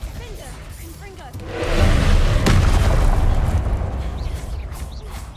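A booming blast from the Confringo fire spell in Hogwarts Legacy, swelling into a loud, sustained roar with a sharp crack at its peak that slowly fades, heard alone.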